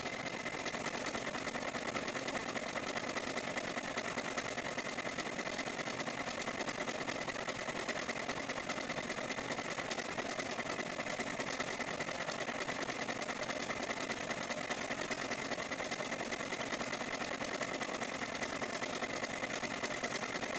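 An embroidery machine stitches out a fall-themed "Hello Fall" design, its steady mechanical whirr and rapid needle rhythm running loud and unbroken throughout, with no talking over it.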